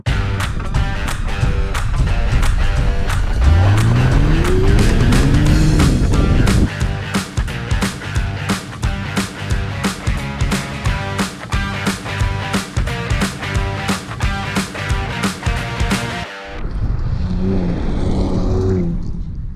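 Turbocharged 2020 Kia Stinger GT accelerating hard, a loud rising engine roar through the gears with rhythmic pulsing, easing off into a quieter cabin hum at the end.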